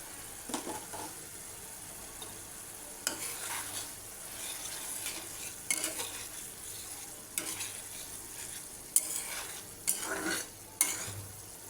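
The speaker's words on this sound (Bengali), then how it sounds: "এখন ঢাকনা দিয়ে দেব, আর ঢাকনাটা উঠায়া নেড়ে দিব" Beef filling for singara cooking in a covered pan, a low sizzle punctuated by repeated scraping stir strokes every second or two, with a few sharp metallic clinks near the end.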